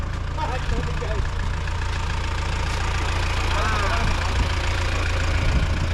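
A car engine idles with a steady low rumble throughout while people talk over it nearby.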